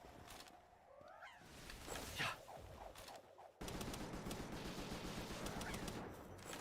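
Rapid bursts of gunfire from shooting in the video game Palworld, with a burst of shots midway that gives way to a dense, sustained rattle of fire mixed with game effects.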